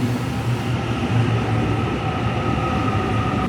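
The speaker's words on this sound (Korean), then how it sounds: "이제 여기서 기차를 갈아타서" A train at Blacktown station in Sydney gives a steady, loud rumble with a continuous engine hum and drone, heard up close with no talking.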